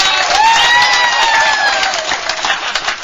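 Audience applause fills an Alcoholics Anonymous meeting, a dense steady patter of clapping that thins slightly toward the end, with a thin ringing tone threading through it.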